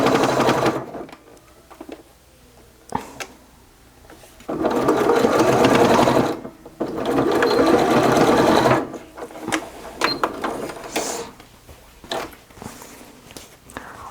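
Sewing machine stitching over an earlier seam while assembling a fabric box-style toiletry kit, running in two sustained loud bursts with shorter stop-start runs and pauses between them.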